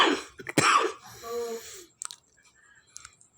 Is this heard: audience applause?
no